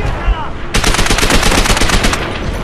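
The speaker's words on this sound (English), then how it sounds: "God, the recoil on this gun is insane" Rapid automatic gunfire from a weapon in Call of Duty: World at War bursts in after a quiet moment and continues as a dense, loud, steady stream of shots to the end.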